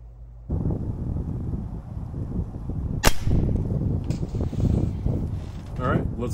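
A Diana 48 .177 side-lever spring-powered air rifle fires one short, sharp crack, up close, over steady outdoor wind rumble with no other distinct sounds.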